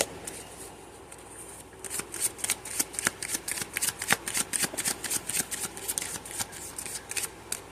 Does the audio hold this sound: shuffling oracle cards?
yes